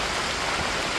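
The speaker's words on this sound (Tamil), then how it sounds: "காற்றும் மழையும் பயங்கரமாக அடித்து ஊற்றுது" A brief burst of heavy rain lashing down amid strong storm winds, a constant dense hiss with no voices.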